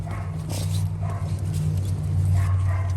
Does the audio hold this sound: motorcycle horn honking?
no